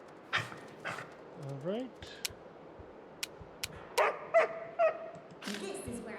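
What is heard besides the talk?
dog barking in the video game Pathfinder Kingmaker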